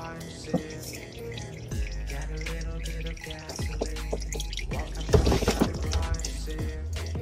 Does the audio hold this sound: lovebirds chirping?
no